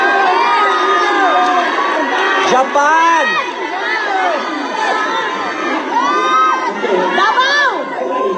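A large crowd of pupils shouts and chants, loud and continuous, with many overlapping voices and a few slogans called out above the din.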